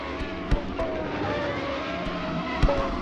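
Formula 1 Legacy race car in a racing sim at Vallelunga, its engine droning steadily at high revs with a couple of sharp bumps from kerbs, heard continuously without talk.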